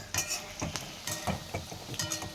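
Onion pakoras made with gram flour batter, frying in a pan with a soft sizzle broken by light scraping and clinking of a utensil stirring, quiet and close with no talk.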